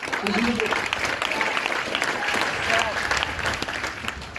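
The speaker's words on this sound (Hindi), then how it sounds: "तालियां बजा रहे हो कि बेइज्जती कर रहे हो?" An audience at a training workshop in Satna claps continuously, a dense close burst of many hands that holds steady through the whole stretch, with a voice briefly heard at the start.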